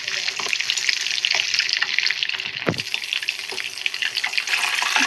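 Chicken pakoda frying in oil, a steady hissing sizzle with fine crackling and bubbling that holds at an even level throughout, with a single louder pop near the middle and no talking.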